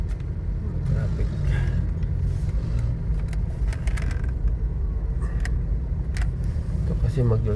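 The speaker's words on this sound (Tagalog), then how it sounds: "Traffic." Road traffic along Mindanao Avenue toward Quezon City, Valenzuela and Caloocan: a steady low rumble of car and vehicle engines heard from close by, with scattered clicks and rattles and faint speech over it.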